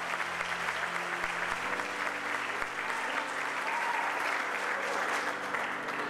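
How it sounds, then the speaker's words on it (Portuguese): A church congregation claps together in a lively, continuous round of applause, dense and even throughout, with faint sustained tones from music or voices beneath. "Você pode aplaudir o Senhor por isso?"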